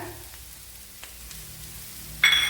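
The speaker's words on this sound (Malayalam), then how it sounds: "ഇനി ഇതിലേക്ക് ഒരു രണ്ട് ടേബിൾ സ്പൂൺ ക്യാരറ്റ് അരിഞ്ഞത് ഇട്ട് കൊടുക്കുക" Finely chopped carrot goes into a hot pan with fennel seeds. A quiet background hiss breaks into a sudden bright, crackling sizzle near the end.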